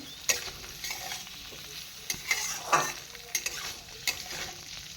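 Cashews and raisins frying in hot oil over medium heat for fried rice, giving a steady soft sizzle with several sharper stirring scrapes and clatters spread through the clip, close and without talk.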